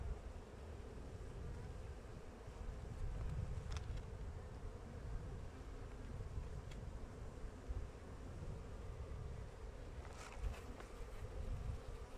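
Honeybees being shaken from a hive frame fill the air with a dense, steady buzzing swarm hum, close and continuous, with a few faint clicks.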